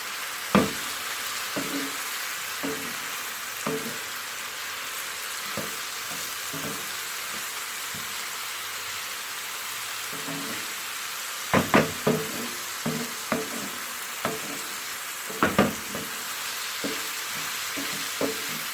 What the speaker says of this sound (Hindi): साथ ही मैं टमाटर ऐड कर दूंगी, तो अच्छे से मिक्स करके 5 मिनट तक पकने दूंगी।